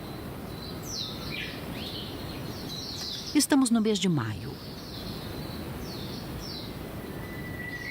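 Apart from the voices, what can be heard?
Bonin white-eye birds chirping on Hahajima island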